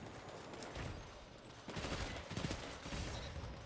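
The Leviathan pulse rifle in Destiny 2 fires in rapid bursts of cracking shots, fairly quiet in the mix, with a louder flurry of gunfire in the second half.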